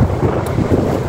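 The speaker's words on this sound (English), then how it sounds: "It is incredibly windy and cold, so I don't even know if you can hear me right" Strong, cold wind buffets the microphone outdoors, a loud continuous low rumble with gusty fluctuations throughout.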